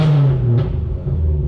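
A carbon-fiber Subaru WRX engine revs briefly as the throttle is blipped, a short close rise and fall in pitch over a steady idle rumble.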